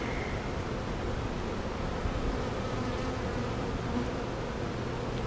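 Honeybees buzz steadily in an open hive with few frames of bees, a dense, continuous droning hum that stays close and even throughout with no voices.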